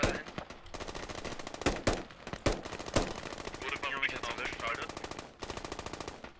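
Automatic gunfire from Squad: bursts of machine-gun fire and sharp single shots rattle steadily, some loud and close, others more distant, with faint voices underneath.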